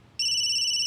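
A phone starts ringing with an incoming video call, a steady electronic ringtone that cuts in abruptly after a brief quiet moment and holds loud and continuous to the end.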